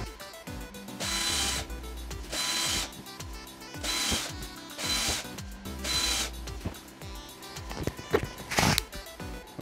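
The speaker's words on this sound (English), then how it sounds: "I'm gonna go and drill some semi-wide holes in there," A power drill runs in several long bursts separated by short pauses while drilling holes in a prop lightsaber, close and loud, with a few clicks and knocks toward the end.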